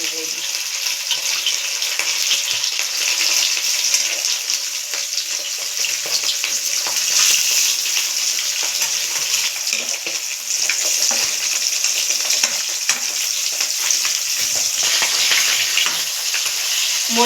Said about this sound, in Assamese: এতিয়া মই তেল দি আছোঁ মাছখিনি